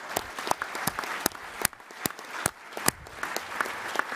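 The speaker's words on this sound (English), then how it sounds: "Let's give all of them a round of applause, please." Steady applause from an audience at a breakfast plenary session, honoring standing Gold Star families, with dense clapping and sharper individual claps sustained throughout at moderate volume.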